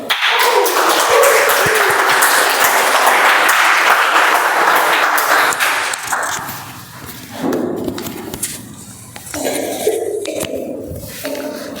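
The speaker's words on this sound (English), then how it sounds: "With huge round of applause, let's welcome our table topic master today" A room of Toastmasters meeting attendees applauds loudly to welcome the table topics master, steady dense clapping that gradually thins out into scattered claps and murmurs toward the end.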